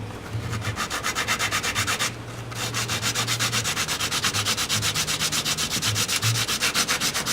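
A plastic guitar nut for a 1975 Harmony acoustic is sanded flat, making a steady rhythmic scratching of repeated back-and-forth strokes, close and loud, with a brief pause partway through and no speech.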